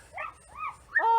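A dog gives a short run of whiny, yelping vocalizations up close, rising into a sharper final yip, with no speech over it.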